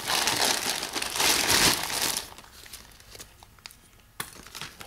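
A plastic bag crinkles loudly and continuously as toy figures are unpacked from it, easing into quieter, scattered rustles and a few sharp crackles toward the end.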